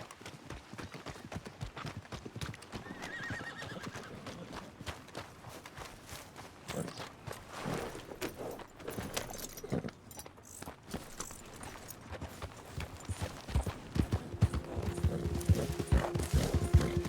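Horse hooves clip-clop at a walk in the Red Dead Redemption 2 Wild West video game, faint and steady, with light rattles and ambient game sounds and a denser stretch near the end.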